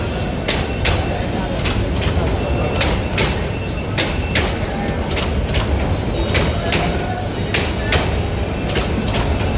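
A local train rolls past close by beside a Dhaka fish market, with a steady rumble and sharp rhythmic clacks from the wheels passing over rail joints.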